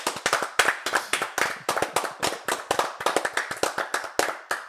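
Hosts of a podcast clap their hands in a fast, steady run of sharp, close, loud claps lasting a few seconds, with no talking.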